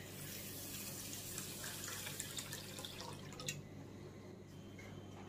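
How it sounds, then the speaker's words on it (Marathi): Rice being rinsed in plain water by hand in a kitchen, a soft continuous trickle and drip of water with faint swishing, steady and close, with no talking. "2-3 वेळा नॉर्मल पाण्यातून हे धुवून घ्यायचे, स्वच्छ करून घ्यायचे"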